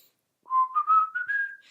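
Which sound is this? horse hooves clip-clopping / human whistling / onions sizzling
human whistling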